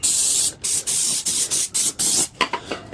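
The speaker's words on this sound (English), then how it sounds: "It's a little brake clean now to pre-paint." Brake cleaner sprays from an aerosol can onto a scuffed part of an old media blaster before it gets painted, in eight or nine loud, close hissing bursts with short gaps between them. The last few bursts are shorter.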